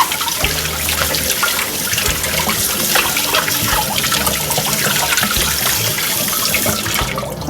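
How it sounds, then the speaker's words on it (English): Running water from a tap pours steadily over a butternut squash being rinsed in a kitchen sink, a continuous close splashing rush with no talking. "the first thing I'm going to do is wash this butter squash. Just rinsing it off."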